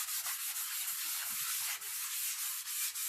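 Steady, close scratchy rasping of sandpaper rubbed back and forth over wood by hand, continuous with brief dips in intensity.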